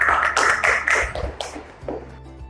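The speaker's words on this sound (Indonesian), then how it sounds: "Kasih aplaus untuk kelompok 1" A classroom of students gives a short burst of applause for a presentation group, with brisk, close clapping that quickly thins out and fades to a few last claps.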